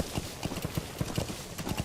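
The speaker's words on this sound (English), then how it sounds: "Nos vamos en el caballo" Horse hooves galloping in the video game Metal Gear Solid 5, a quick steady clip-clop rhythm of repeated thuds, moderately loud and close.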